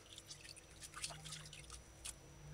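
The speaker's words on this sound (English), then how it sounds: "Squeeze it firmly, squeeze it, get out the excess water and salt." Water dripping from rinsed salt codfish being squeezed firmly by hand, a faint close patter of irregular drips and small splashes with no talk.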